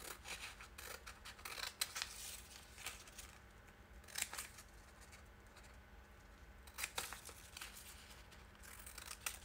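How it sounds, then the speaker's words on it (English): Scissors snipping through a piece of paper junk mail, with close, quiet irregular cuts and rustling paper, several sharper snips spread across the clip. "I'm going to cut this little guy out"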